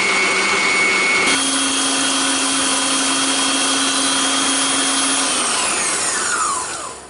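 A stand mixer whips egg whites for macaron shells, a loud steady motor whir that changes pitch partway through, then winds down near the end, with no talk.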